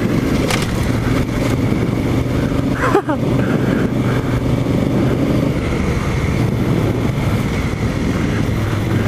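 Honda Africa Twin motorcycle ridden offroad in third gear, a loud continuous engine drone with wind buffeting and a brief thump midway, heard close from the rider's position.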